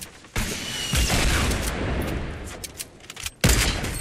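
Bursts of gunfire in a video game, a dense rattle of shots that opens abruptly, runs steadily with scattered sharper cracks, then cuts off and resumes loudly near the end.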